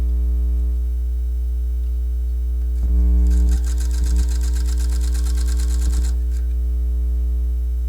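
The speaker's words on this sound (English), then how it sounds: "I'm going to do what's called an edge stitch," A sewing machine runs a short edge-stitching burst close along a fabric edge on a top being sewn, a steady mechanical whir of about three seconds over constant mains hum, with brief taps before and after.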